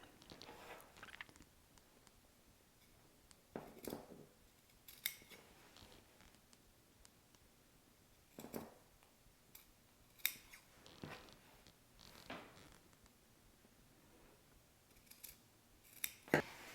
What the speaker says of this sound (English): we're just going to clip up to the stitching, making sure we're not cutting the stitches